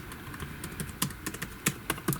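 Quiet, close typing on a Huawei Matebook D14 laptop keyboard, a scatter of light irregular key clicks with brief pauses.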